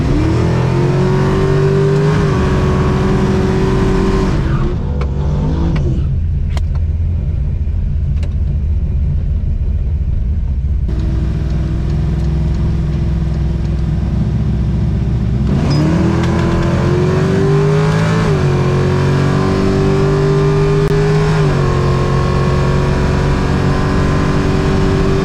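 A drag racing car accelerates hard down the strip at a street-night drag event. The engine roars very loudly and close, climbing in pitch, dropping sharply at a gear shift, then surging and climbing again.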